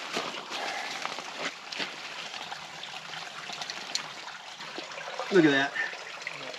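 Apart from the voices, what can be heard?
running water flowing from a pipe by the road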